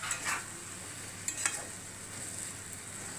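Mutton keema masala sizzles in a pan while a spoon stirs it, with a steady fry hiss and a few short scraping strokes against the metal.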